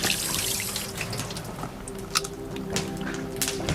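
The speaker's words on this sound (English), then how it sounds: "Just wash my hands." Tap water runs into a sink during hand washing while cleaning squid, a soft continuous trickle with a few splashes and drips, close and fairly quiet, with no speech.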